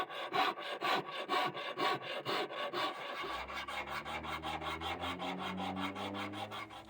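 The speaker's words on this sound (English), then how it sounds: "Sanding these bodies too. This alder sands really smooth." Rhythmic rasping strokes of sandpaper on an alder guitar body, fast and regular, with a low machine hum joining partway through.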